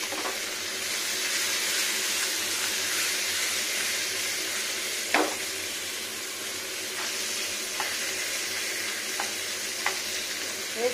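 Small fish fry in oil in a pan, a steady close hiss and crackle of sizzling throughout, with a few sharp pops and spatters standing out.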